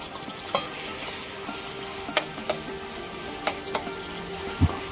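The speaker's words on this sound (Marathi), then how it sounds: "पहिले तर आपण तेल टाकून घेऊ आणि त्याच्यामध्ये आपण जो मसाला बनवायला होता तो टाकून आणि थोडंसं भाजून घेऊ" Masala roasts in hot oil in a pan as crab is cooked at home, a steady close sizzle broken by a few sharp scrapes and taps of a stirring spoon.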